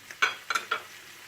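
Brief scraping stirs of diced tomatoes in a hot pan, three quick strokes over a soft sizzling hiss, close up.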